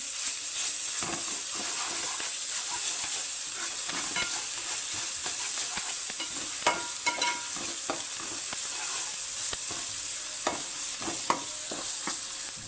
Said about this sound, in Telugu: అల్లం వెల్లుల్లి పేస్ట్ 1 స్పూన్ వేసుకుందాం. అంటే కొంచెం ఎక్కువ ఉంటేనే బాగుంటుంది. ఇది కొంచెం వేగనిద్దామండి.